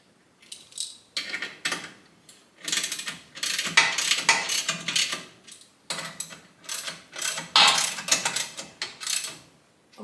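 Nuts on a Craftsman 113 jointer's infeed table being snugged up with a wrench, giving bursts of ratcheting, metallic clicking close by, in repeated strokes with short pauses between them.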